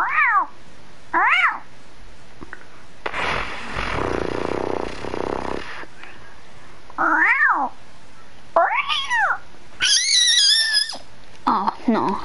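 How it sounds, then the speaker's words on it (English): A cat meows repeatedly during a game of one-shot solos, several rising and falling meows spaced apart with a loud noisy burst in the middle, followed by higher, more strained cries near the end. "That's my cat, dude."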